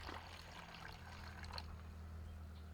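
Kombucha poured through a funnel into a bottle during second fermentation, a soft steady trickle and dribble running alone for a few seconds over a low hum, fairly faint.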